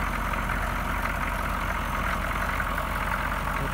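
A small diesel heater runs under a vehicle hood at a winter campsite, giving off a steady, continuous low rumble and whir with no change in level throughout.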